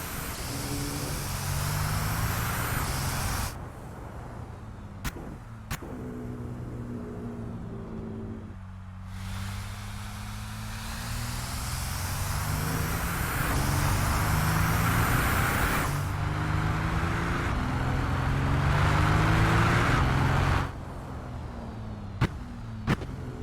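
A Mercedes Brabus Rocket 900 limousine in the Assetto Corsa racing game, heard from outside the car, gives a steady engine roar that rises and falls with gear changes, broken by brief clicks, with no talking.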